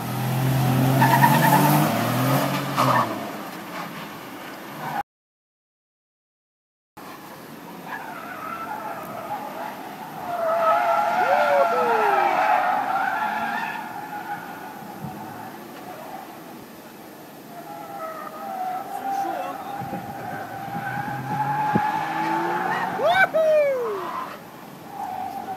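Tires on a Nissan 370Z skid and squeal while drifting through a gymkhana test in Gran Turismo 5, in repeated sliding chirps and sweeping screeches, with a short dropout early on.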